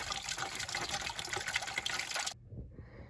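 Water gushes steadily from an air-conditioning hose into a bucket, then cuts off abruptly, leaving quieter residual sounds.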